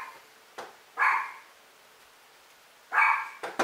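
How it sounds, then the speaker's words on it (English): Indoor dog barking near the microphone while a self-watering microgreen grow box is assembled. Two sharp, loud barks about two seconds apart, each followed by a short fading tail, over a steady background hiss. "My dog doesn't like this."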